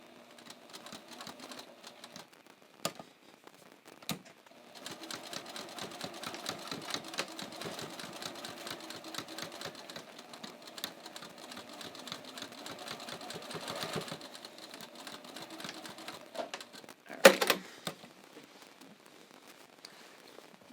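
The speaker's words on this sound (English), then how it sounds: "Okay, so I'm just going to sew that back down." Sewing machine stitching a pants waistband facing back down, a steady fast mechanical whirr running for most of the span between short starts and stops, with a sharp clack near the end.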